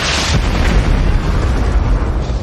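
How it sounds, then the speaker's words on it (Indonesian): A grenade explodes in an action film, blowing open a garage door: a loud, dense, roaring blast with a sharp onset that rumbles on for a couple of seconds. "Di tengah peperangan, Chester meledakkan satu granat yang membuat pintu garasi jebol."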